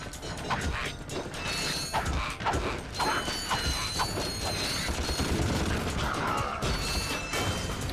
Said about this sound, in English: Get all these little pups that are robots, so I don't feel bad about killing them